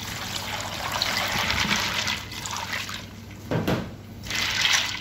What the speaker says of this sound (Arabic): أضيف المي.